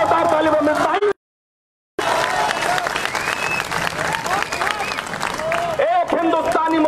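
A crowd at a poetry recital at Jamia claps loudly, broken by a brief cut to silence, then the applause resumes with a voice speaking over it.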